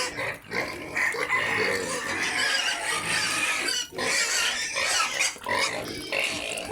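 Farm pigs grunt and oink loudly and continuously at close range, while chickens cluck and a rooster crows in the background; no one speaks.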